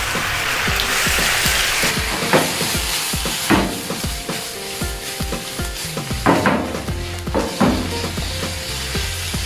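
Beef strips hit a hot pan for salpicao and sizzle loudly and steadily, with repeated scraping and knocking from a utensil as the meat is stirred, close up and without talk.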